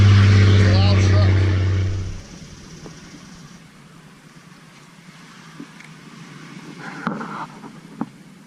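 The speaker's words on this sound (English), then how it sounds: "It's a loud truck." A loud truck rumbles past close by for about two seconds, a heavy low engine roar that cuts off abruptly, leaving a quiet outdoor scene at an old 1840s home site with faint scattered clicks.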